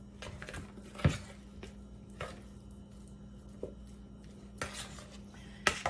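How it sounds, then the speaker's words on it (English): A spoon stirs honey into a fruit salad, giving a few quiet clinks and scrapes against the bowl spread across a faint background hum. "I'm just going to put a spoonful, stir that up."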